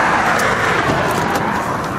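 Car passing along a roadside during a traffic stop: a loud, steady whooshing rush of road noise close by, with no talk over it.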